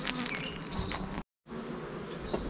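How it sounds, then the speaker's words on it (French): Dense, steady buzzing of honeybees swarming over an open, strong production beehive, loud and close, with one brief drop to silence midway. "Voilà, donc là on est sur ma ruche de prod la plus costaud. J'ai ouvert il y a 2 minutes déjà"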